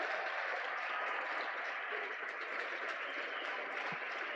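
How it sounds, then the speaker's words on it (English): An audience at a FIRST robotics competition event in Lafayette applauds nominees for an award, producing a steady, even wash of clapping throughout at a moderate distance. "let's hear a round of applause for all of our nominees here from the Lafayette District event."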